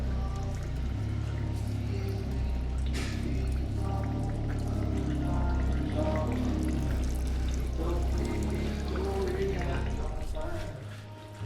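Coolant drains from a Hyundai Elantra's cooling system in a continuous close pour of liquid, with spattering and dripping throughout.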